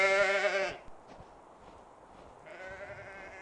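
Snow sheep calling in the snow-covered Ural mountains of Siberia: a loud, harmonic bleat opens, then quiet, then a second fainter, drawn-out bleat at a distance.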